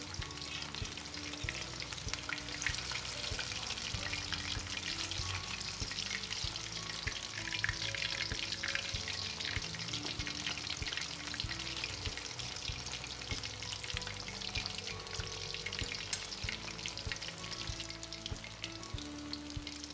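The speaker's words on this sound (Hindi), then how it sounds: "मछली हमारी फ्राई हो चुकी है, हम इसको निकाल लेंगे।" Fish fillets coated in a spice masala fry in a pan of hot oil, giving a steady, dense crackling sizzle that stays loud and continuous throughout with no talking.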